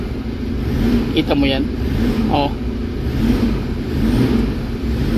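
A Toyota Fortuner diesel engine with low power runs and revs near the microphone, a low steady rumble that swells slightly while someone talks over it.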